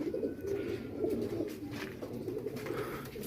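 A pigeon in Multan coos softly and repeatedly in a low, rolling rhythm, quiet and close, with a faint background hiss and no voices.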